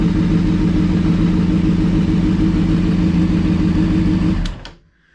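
A 2001 Honda CBR600F4i motorcycle with a dented gas tank and missing fairing runs at a steady, loud idle with a throbbing low rumble, then shuts off and falls silent.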